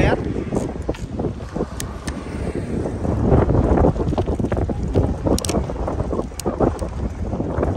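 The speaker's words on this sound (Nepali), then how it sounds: "हावा चाहिँ कत्रो चलेको यार" Strong seaside wind buffets the microphone in a continuous low roar that swells and gusts, with people talking underneath.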